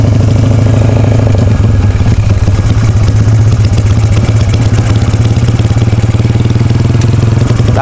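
A custom motorcycle with a Jaguar cylinder block engine runs steadily up close, a loud rumbling idle with rattling clatter throughout.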